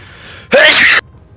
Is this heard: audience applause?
no